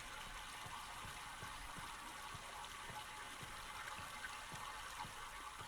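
Steady rushing water from the Myst video game, a continuous even wash of flowing liquid, faint and alone with no talk over it.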